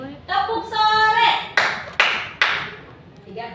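A classroom clapping game: a voice speaks, then three sharp, separate hand claps follow in an even rhythm, each clear and close.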